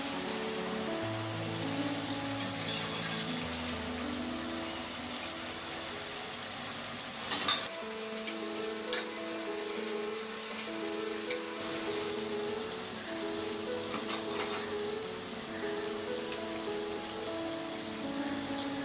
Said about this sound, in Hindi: इसे पलटते हुए दूसरी तरफ भी फ्राई कर लेंगे।